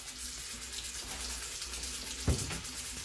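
Tap water runs steadily into a test container for water hardness testing, a constant close hiss and splash with a brief knock partway through.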